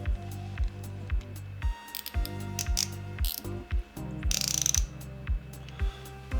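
Drag clicker on a Daiwa Tatula 80 baitcasting fishing reel, a rapid run of crisp ratcheting clicks in repeated bursts as the spool turns, close and fairly quiet, with no talk.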